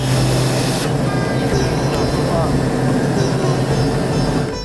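A loud, steady engine drone fills the clip, the constant roar of a small propeller airplane in flight over hills and plains in Nepal, heard from inside the cabin.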